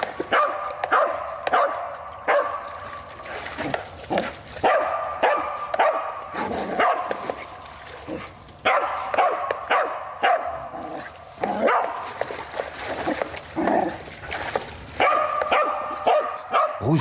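Hunting dogs, among them a fox and yak terrier cross, bark repeatedly in a boar chase: excited overlapping barks and yips, fairly close, in rapid irregular bursts over rustling ground noise.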